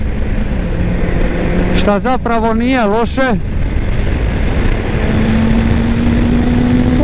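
A 1999 Kawasaki ZZR 600 carbureted motorcycle idles with a steady hum, then blips its throttle in several quick rising-and-falling revs before settling back to idle, while someone talks over it.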